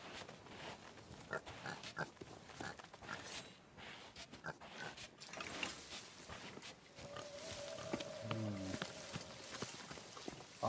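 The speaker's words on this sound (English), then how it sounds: "We have Porky Pigs" A pig grunts and snorts in the pirate video game Sea of Thieves, amid game ambience with clopping, footstep-like sounds and a brief rising tonal cue near the end; no speech.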